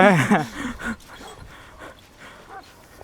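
A large dog pants and huffs close by in short bursts, with a louder opening burst fading to quieter breathy sounds and light movement.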